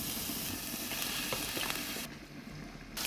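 Onion and garlic sizzle in hot frying oil. A fizzing crackle sounds close by, then a short stretch goes quieter and duller before the sizzle returns. The whole clip is fairly faint, and no one speaks.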